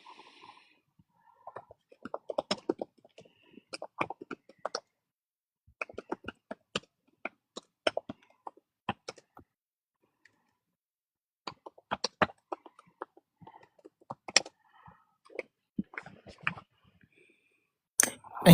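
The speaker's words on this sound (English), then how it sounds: "you're tapping those keys" Computer keyboard keys tapped in short bursts of crisp clicks, close to the microphone, with quiet pauses between runs of typing.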